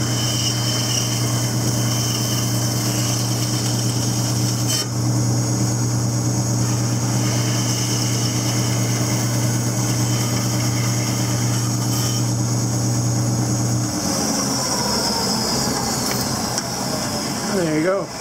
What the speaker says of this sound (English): I'll take that to the bandsaw and cut the slot out.